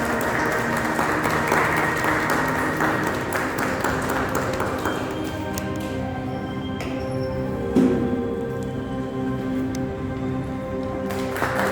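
Audience applause at an award ceremony as a guest is welcomed on stage, a dense clapping patter that fades after a few seconds, leaving light scattered claps and a ringing tone.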